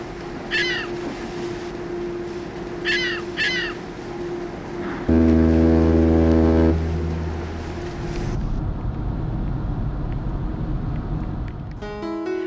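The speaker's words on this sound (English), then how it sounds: "The next morning, the ferry docks in Estonia." Ferry docking in Estonia: a low engine rumble runs throughout, with a loud, sustained horn blast partway through and brief chirping calls near the start.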